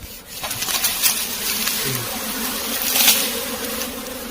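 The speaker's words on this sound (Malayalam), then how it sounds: "തേനീച്ചകളെല്ലാം ഒരു സൈഡിലേക്ക് മാറിയിരിക്കുന്നത് കാണാം" Honeybees buzz loudly and continuously as their colony is moved into a beehive, and sharper buzzing swells rise and fall up close.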